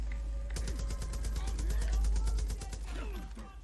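Pistol fire in the video game Far Cry New Dawn, a quick run of sharp, evenly spaced shots close up that ends near the middle, with game sounds and mechanical clicks around it.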